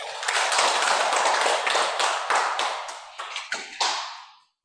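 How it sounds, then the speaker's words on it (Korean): Members of an audience at a Dahn Hak meditation lecture clap in a dense, steady patter that thins into a few scattered claps before fading out, with no talking over it. "맞으면 박수."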